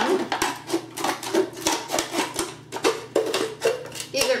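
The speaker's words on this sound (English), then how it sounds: "Make a snip with your scissors." Scissors snipping through a plastic bottle during a craft project, producing a series of short, crisp cutting crunches in an irregular rhythm, close up and moderately loud with a low hum underneath.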